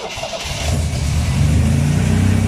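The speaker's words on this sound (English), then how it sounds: "first test fire of the Ital, and petrol's on, fuel pump's working" A Morris Ital's engine fires for the first time after its fuel pump comes on, catching and rising into a loud, steady running roar close by, with no talking.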